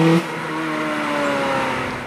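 Ferrari 430 Scuderia engine pulling hard under acceleration, a loud close sustained roar with rising harmonic tones and no talking.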